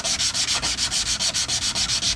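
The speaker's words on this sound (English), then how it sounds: "why are you sanding with 120 grit?" Rapid, rhythmic sanding strokes on titanium with 120 grit sandpaper, a coarse scratchy rasp repeating about six times per second, close and loud.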